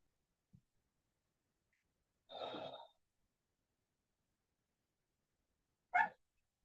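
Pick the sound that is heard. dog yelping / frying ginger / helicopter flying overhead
dog yelping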